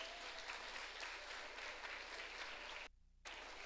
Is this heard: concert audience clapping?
yes